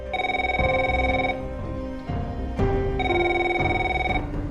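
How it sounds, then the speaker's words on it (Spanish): A telephone ringing in an audiobook, an electronic two-tone ring in repeated bursts with short gaps, clear and close with no voice over it. "No le había dado tiempo a ducharse cuando sonó el teléfono."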